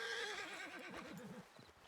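A horse in a western video game whinnies loudly and clearly, its neigh wavering up and down, with hooves clip-clopping underneath throughout.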